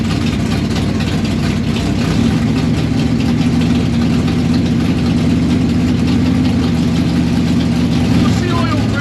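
A Dodge Dart drag car engine idles loudly and steadily up close, a deep rumbling, lumpy throb that holds constant throughout, with people talking faintly over it.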